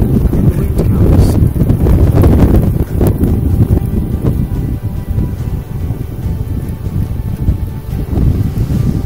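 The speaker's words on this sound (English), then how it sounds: "And the wind comes." Strong wind gusts batter the microphone outdoors in a loud, continuous low roar that rises and falls slightly, with no voices.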